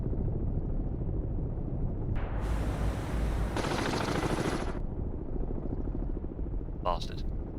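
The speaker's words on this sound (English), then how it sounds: "He's got a helicopter out." Enemy helicopter in the submarine game Cold Waters, a steady low mechanical roar that holds throughout, with brief bursts of harsher noise layered on top.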